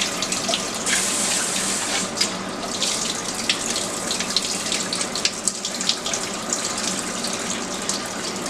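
Running water from a sink tap pours over rice being washed, a steady close splashing gush with small bursts of agitation throughout, no voices.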